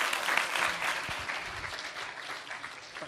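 An audience at a university rector candidates' debate claps steadily for a few seconds, a dense, even wash of applause that tapers slightly toward the end.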